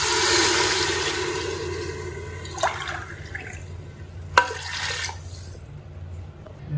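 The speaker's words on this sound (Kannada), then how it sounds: "ಈಗ ನೀರು ಹಾಕುವ." Water poured onto washed Sona Masoori rice in a pot for a quick veg pulao, a loud, steady rushing splash that tapers off, with a couple of brief knocks as the pour ends.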